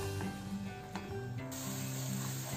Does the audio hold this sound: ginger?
yes